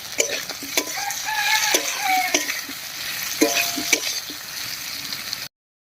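A vegetarian pumpkin curry, just seasoned with salt and sugar, is stirred in a sizzling pan, with a spoon repeatedly clacking and scraping against the metal in an uneven rhythm.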